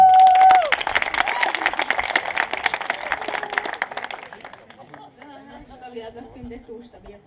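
An audience at a slam poetry showcase and open mic claps in a dense burst of applause for about four seconds, then the clapping thins out into scattered claps as a voice begins speaking.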